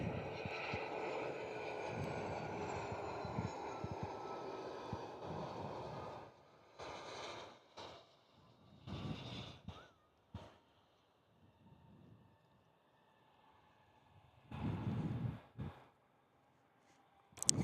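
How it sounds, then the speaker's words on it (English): A QantasLink airliner flies in toward Perth Airport with a distant, broad engine rumble that fades over several seconds, followed by scattered louder bumps and handling noises close by. "Qantas link heading in."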